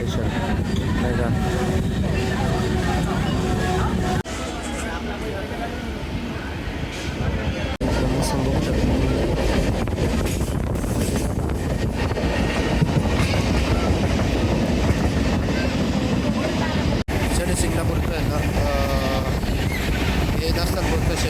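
A train rolls along the rails on a journey between Lasalgaon and Dhule near Nandgaon, giving a steady loud rumble and clatter from inside the carriage, with a couple of brief shifts in tone.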